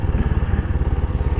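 An NS125 motorcycle engine runs close by with a steady, rapid low-pitched pulsing throb, a continuous thumping idle with no voices over it.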